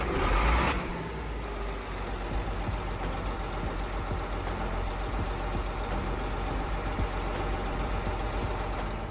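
A John Deere 4850 tractor engine at night kicks over with a brief loud burst, then settles into a steady, rumbling idle that runs on evenly, close and alone.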